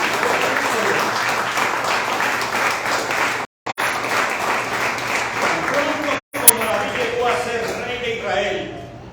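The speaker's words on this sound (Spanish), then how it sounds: "Y usted puede darle un aplauso a ese Dios de David." Steady, dense applause from a crowd goes on for several seconds, with voices mixed in and two brief dropouts.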